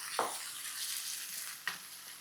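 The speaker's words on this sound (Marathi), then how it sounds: "आणि याला छान परतून घे." Chopped garlic, ginger and green chili sautéing in a pan as part of an okra stir-fry, a steady close sizzle with two brief stirring scrapes.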